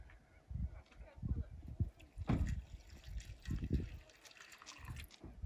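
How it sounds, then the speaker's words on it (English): Milk poured from a carton on a road trip, irregular glugging gulps and splashes in several uneven bursts, fairly quiet and close, with some talking mixed in. "when you pour it out, it always like glugs"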